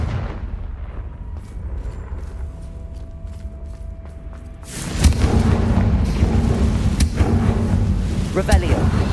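A Confringo blast spell from Hogwarts Legacy erupts midway as a loud booming, rumbling explosion that swells and lingers, following a quieter stretch of low ambient rumble and faint clicks.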